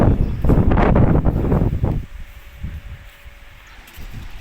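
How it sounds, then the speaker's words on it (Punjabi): Wind gusting across a village rooftop, loud buffeting rumble against the microphone for two seconds, then easing to a softer, uneven rustle. "ਮੌਸਮ ਅੱਜ ਬਹੁਤ ਵਧੀਆ ਜਾ ਰਿਹਾ ਹਵਾ ਚੱਲ ਰਹੀ ਆ"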